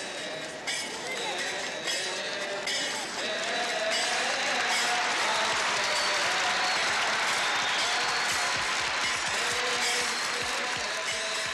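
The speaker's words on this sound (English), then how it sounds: "The Pope's arrival is greeted with applause and trilling cries of joy." A large crowd in Egypt applauds Pope Shenouda's arrival after hours of waiting. The clapping is dense and continuous and builds in strength, with some individual claps standing out and voices blended into the roar.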